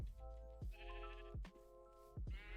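Sheep bleat three times in quick succession in the video game Minecraft, each call loud and wavering, with a steady background hum between them.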